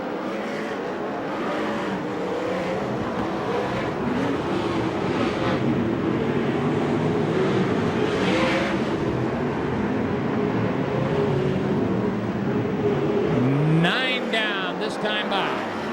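Sprint car engines roaring around the Bakersfield dirt track, a continuous loud drone of racing motors with rising and falling pitch as cars pass, under steady announcer commentary.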